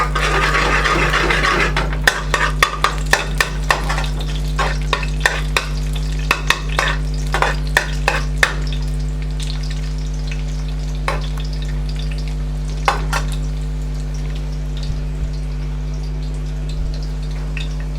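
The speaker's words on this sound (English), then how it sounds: "While that garlic's sizzling away there" Garlic sizzles in a hot frying pan for a balti, loud at first and then quieter, while a utensil scrapes and clicks against the pan as it stirs.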